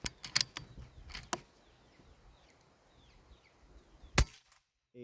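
A .25 caliber Air Venturi Avenger air rifle fires two sharp, loud cracks close together near the start. A third snap follows shortly after, then a fourth distinct report later on, with quiet pauses between shots.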